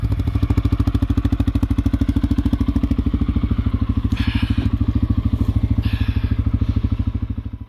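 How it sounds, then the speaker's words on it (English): An ATV engine running through a snowy Swedish forest, a loud, close, steady rapid putter that pulses evenly throughout and fades slightly at the end, with no talking. "I asked my dad if I could borrow his ATV and just go on a little drive, just explore around in the snowy forest"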